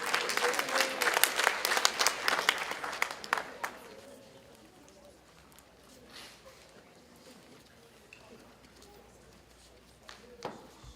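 Audience applause for students at a senior scholarship and honors night, a loud burst of clapping for the first few seconds that fades to quiet room noise, with faint murmuring and a brief clap near the end.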